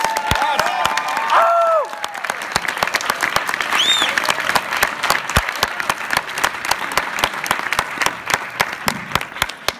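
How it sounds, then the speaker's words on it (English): Audience at a jazz singers' performance applauds with a dense patter of clapping, a few whoops and cheers rising early, individual sharp claps standing out near the listener. "You may applaud."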